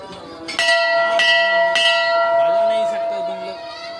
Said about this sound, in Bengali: আগে একটু ঘন্টাটা বাজিনি, ঘন্টাটা দেখতে পাচ্ছো, ঘন্টাটা বাজাবো